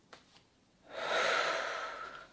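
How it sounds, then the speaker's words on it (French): A woman takes a long deep breath to calm her stress: a couple of faint sniffs and then a single loud, drawn-out inhale-exhale rushing close to the microphone. "je prends ma respiration parce que quand je suis stressée, je respire plus"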